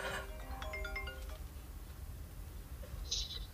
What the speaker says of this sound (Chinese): 大嘴媳妇来电话了